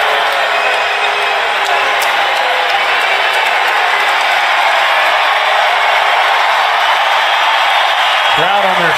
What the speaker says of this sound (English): Crowd on their feet applauding JR's feistiness.